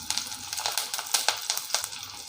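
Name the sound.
sautéing garlic, green chili, shallots and curry leaves in pan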